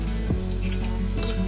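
Garam masala frying in a pan for palak paneer, a brief, dense, steady sizzle with a low hum underneath and no voices.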